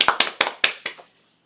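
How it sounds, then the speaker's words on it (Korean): Audience applause after a speaker is thanked at a Woosong University online admissions briefing: a short burst of about six sharp, distinct claps in quick succession, close and fairly loud, then silence. "큰 박수 부탁드립니다."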